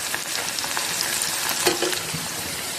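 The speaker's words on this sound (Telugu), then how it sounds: "ఇందులో పచ్చిమిర్చి కూడా వేసి ఫ్రై చేస్తాం" Mutton frying with green chillies, giving a loud, dense, continuous sizzle and crackle close by, with faint stirring mixed in and no talking.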